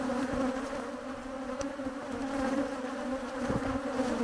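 A swarm of bees hums in a dense, continuous drone, steady and fairly close, filling the whole stretch with no talk.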